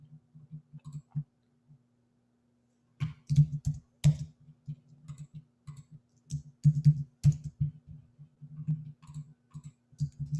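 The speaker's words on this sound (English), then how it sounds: "let me type those up as well here" Stock tickers being typed on a computer keyboard, a close run of quick clicky keystrokes in two bursts separated by a short pause, with a steady low hum underneath.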